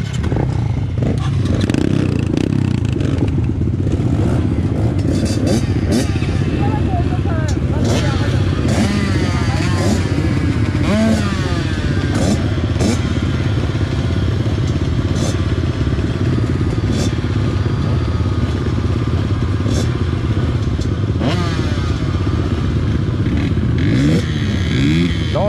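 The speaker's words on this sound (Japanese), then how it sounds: "スタート1分30秒前ではエンジンをかけてください。" Mini motorcycle engines started and idling together ahead of a 30-minute race at a mini-moto track, a dense continuous buzz with scattered revs and clatter throughout, while people talk nearby.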